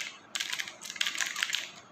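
Typing on a ZK-3 mechanical keyboard, a quick burst of close, sharp clicky keystrokes in two short clusters after a brief quiet start.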